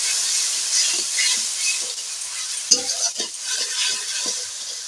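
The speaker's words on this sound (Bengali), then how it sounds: "এই জলটা অ্যাড করেছি যাতে মশলাটা ভাজা হয়" Ground ginger and cumin paste fried in a pan with a splash of water for an eggplant and fish curry, a steady loud sizzle with faint stirring knocks, close and alone.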